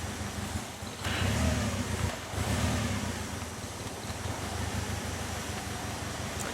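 A Toyota AE86 engine runs at an uneven, rough idle with a faint fault, a steady close mechanical drone with low pulsing and slight swells, heard alone without talk.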